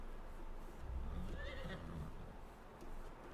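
A horse whinnies in Farm Simulator 19, a single rising and falling neigh in the middle of the clip over a low, quiet farm background.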